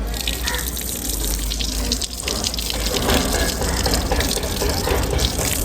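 Water gushes steadily from a tap as feet are washed at the Ambernath temple, a loud, continuous close-up splash that runs unbroken throughout.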